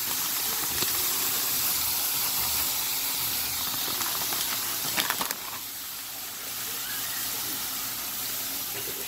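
Cauliflower, about a cup, hitting a hot pan for a keto gravy recipe gives a steady, loud broadband sizzle and hiss that runs throughout, easing slightly halfway through and continuing without talk.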